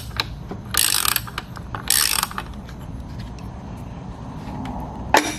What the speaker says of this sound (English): bind that wrench up back here in the corner where you got to pull on top of it, hold it steady, and pop that nut loose